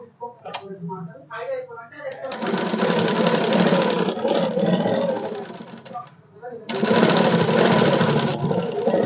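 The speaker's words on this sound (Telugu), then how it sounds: "ఇప్పుడు ఇది రివర్స్ నుంచి కుట్టాలి కాజాల దాన్ని" A sewing machine stitching a buttonhole strip from its reverse side runs in two long, loud, steady bursts, with a short pause between them; brief talk comes just before the first run.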